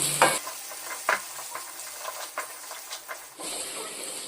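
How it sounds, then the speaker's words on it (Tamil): Shallots, green chilies and curry leaves sautéing in hot oil for a dried-fish curry, with a steady sizzle broken by a few sharp stirring scrapes, close and fairly loud, with no talking. "இப்போ இது மூணையும் நல்லா வதக்கி கொடுத்துருவோம்"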